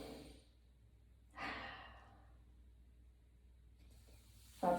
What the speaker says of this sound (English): Open the mouth, exhale, release.